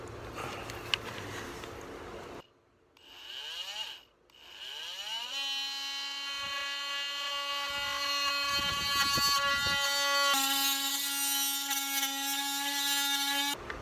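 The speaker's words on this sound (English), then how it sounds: "I want to try out the multi-tool to see if it works or how accurate it would be to do this cut" A Ryobi oscillating multi-tool cuts, giving a high buzzing whine that winds up and cuts out a few times, then runs steadily and loudly as the blade bites, with a brief pause before it resumes.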